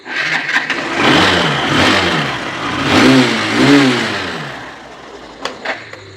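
A 2021 Hero Super Splendor motorcycle engine in good running condition, close and loud, revving up in two or three swelling bursts before dropping back toward idle, with no talk over it.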